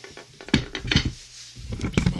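A clay donabe rice pot is handled with a few hard ceramic knocks and clinks, scattered irregularly and close up.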